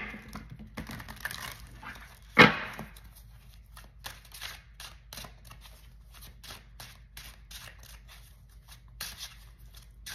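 Cards being shuffled, soft riffling and patting close by, with a sharp snap near the start and quiet tapping throughout.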